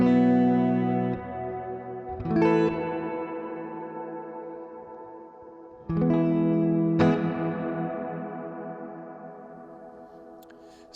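Reverb from a Source Audio Collider effects unit set to a long decay, shown by sustained musical notes struck twice that ring out and fade slowly, with a clear, prominent tail after each attack and no talking.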